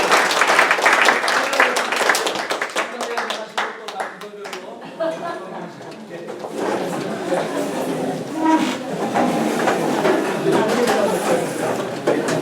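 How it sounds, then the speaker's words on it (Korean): Applause from a church audience at a talk on the Bible seen through Middle Eastern eyes: dense clapping that starts loud, thins and fades after a few seconds, then a lively murmur of crowd voices and further scattered clapping. "예, 목사 다시 한번 큰 박수."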